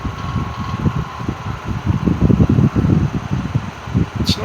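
A 1950s Wizard hassock floor fan running close by, giving a loud, steady, fluttering whoosh of moving air with a rapid rhythmic pulse and no voices.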